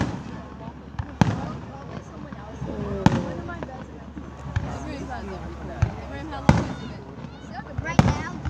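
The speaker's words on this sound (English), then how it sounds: "Oh my god, these fireworks getting really good." Fourth of July fireworks bursting overhead, several sharp booms and crackles at irregular intervals over a steady outdoor crowd murmur, with people talking throughout.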